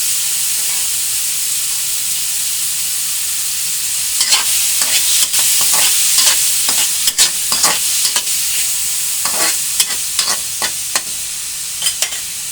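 Squid balls fry in a pan with a steady close hiss, and from midway a spatula stirs them with irregular scraping knocks and bursts of sizzle.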